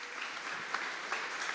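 Church congregation clapping in worship during a family service, a soft, steady spread of many hands at moderate distance with a few sharper claps poking out.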